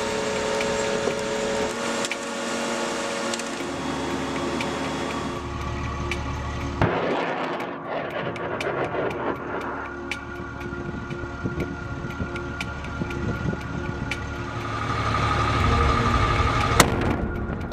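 A rocket-propelled mine-clearing line charge packed with C4 launches with a sustained roaring rush, then a sharp blast cuts in midway, followed by crackling rumble and a further loud burst near the end; no voices.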